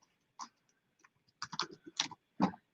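Keys on a computer keyboard are tapped to type a note, a sparse, uneven run of close, quiet clicks in small bursts separated by brief silences.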